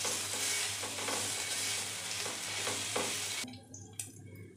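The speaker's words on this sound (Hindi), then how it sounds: "अब हम इसमें हाफ टी स्पून लहसुन का पेस्ट डालेंगे। अब इसको थोड़ा सा भून लेंगे।" Garlic paste sizzling in melted ghee in a pan, a steady close frying hiss with occasional stirring scrapes, the sizzle dropping away sharply near the end.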